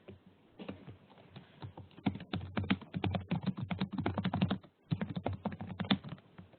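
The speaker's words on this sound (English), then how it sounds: "I'm typing pretty fast here." Fast typing on a computer keyboard, a dense run of close, crisp key clicks in quick bursts with a brief pause near the end.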